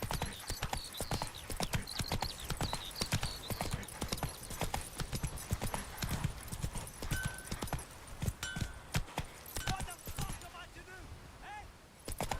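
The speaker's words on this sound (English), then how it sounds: "Run, Roach." A horse gallops in The Witcher 3: Wild Hunt, with fast, steady hoofbeats pounding close and loud throughout and an occasional whinny. Some voice sounds come through faintly beneath the hooves.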